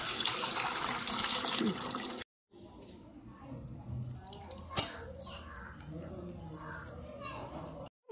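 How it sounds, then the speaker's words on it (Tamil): Curry leaves are washed in water, with running, splashing water close up that cuts out briefly and then resumes as a gentler swish and trickle. "கருவேப்பிலையை கழுவிக்கலாம்."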